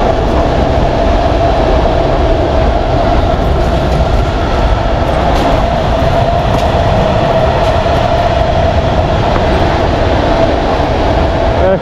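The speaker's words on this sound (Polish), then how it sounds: "pociąg wszędzie musi nam towarzyszyć" Loud, continuous rumble of a train rolling past close by in Milanówek or Grodzisk Mazowiecki, Poland, with a steady rail drone and faint clatter throughout.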